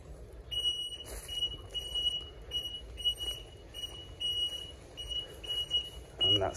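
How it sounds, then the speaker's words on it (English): Alarm beeping at a fenced-off site after a road traffic collision in St Albans, a repeated high electronic beep pulsing in a steady rhythm, fairly faint, over outdoor background noise and low rumble. "And that's triggered the alarm."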